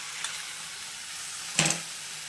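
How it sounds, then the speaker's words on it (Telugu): Two beaten broccoli omelettes frying in a pan with oil, giving a faint, steady sizzle with a brief louder burst of sizzling midway. "నేను 2 ఆమ్లెట్స్ వేస్తున్నానండి. ఇలాగా 2 ఆమ్లెట్స్."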